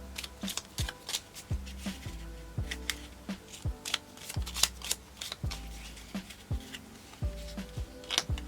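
A deck of playing cards is handled and riffled at close range, giving a rhythmic run of soft flutters and sharp snaps repeating about every second, with no talk over it.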